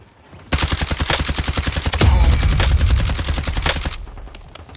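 An AMAX assault rifle in Call of Duty Warzone fires long, fast automatic bursts, loud and close, with sharp evenly spaced shots and a heavier boom in the middle before the firing stops.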